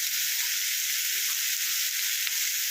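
Pumpkin and fenugreek curry sizzling in a hot pan while being stirred: a continuous bright, close frying hiss with faint soft scrapes of the spoon underneath.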